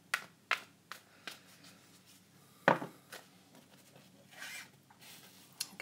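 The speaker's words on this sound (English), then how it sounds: "Okay, so I'm going to shuffle the cards." Tarot cards are shuffled by hand, producing a series of soft, scattered riffling and tapping bursts at close range, with one sharper snap in the middle and quiet pauses between.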